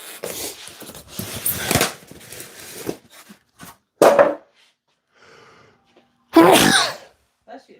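A sharp indoor sneeze bursts out once, loud and close, followed shortly by a second one, with a few short stretches of talk and room noises in between.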